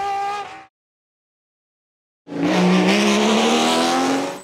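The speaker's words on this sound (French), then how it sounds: "on commence en beauté avec un rugissement, le Matra V12, un chef-d'œuvre conçu pour la vitesse" Matra V12 racing engine, built for speed, roaring loud and close in a sustained high-revving howl after a brief burst and a short silence, with a rising pitch as it pulls.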